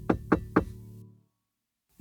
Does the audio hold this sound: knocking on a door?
yes